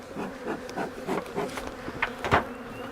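Agitated honeybees swarm thickly in a heavily smoked hive during a split inspection, a dense close buzzing with sharper individual bee passes and faint knocks of equipment.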